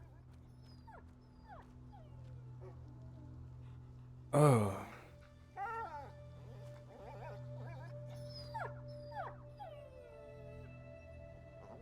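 A dog in the video game A Plague Tale: Innocence whimpers and yips in a series of thin, rising cries, with one loud howl near the middle, over a low game ambience. A man briefly exclaims.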